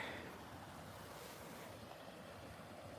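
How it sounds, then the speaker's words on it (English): Rapids on Little Beaver Creek in a winter park rush steadily as a broad, even wash of flowing water heard from a short distance, with no voices. "Got some rapids right there."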